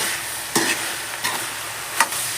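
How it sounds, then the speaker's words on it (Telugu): A kilo of mixed greens with chili powder is stirred in a pan for a Bhogi-special curry: a continuous soft sizzle broken by three distinct spatula scrapes, close and with no speech. "వీటిని నేను చక్కగా బాగా కలిపేస్తాను"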